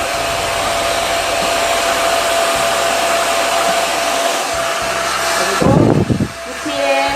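A hair dryer blows steadily and loudly while long layered hair is styled, a constant airy whoosh with a faint hum, then a short burst of rustling and handling near the end.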